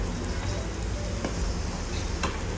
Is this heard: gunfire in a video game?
no